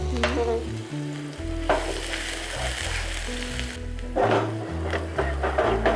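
Onion fries in a pan until reddish, a continuous close sizzle and crackle beneath steady background music, with occasional stirring and no clear talk.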